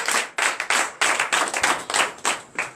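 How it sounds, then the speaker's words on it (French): A church congregation claps in a fast, uneven rhythm, sharp close hand claps repeating for a few seconds with no voices over them. "Donnez l'acclamation à Jésus."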